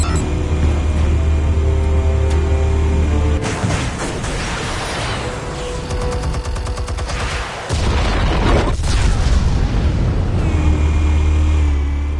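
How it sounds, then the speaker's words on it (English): Explosives detonate in a Batman video game, heard as loud, sustained booming and crackling blasts with deep rumble, a brief lull and then another heavy burst of explosions. "Explosives armed. Fire when ready."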